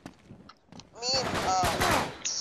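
Rapid gunfire bursts from an Uncharted free-for-all multiplayer match, a dense close crackle of automatic shots with voices talking over the fight.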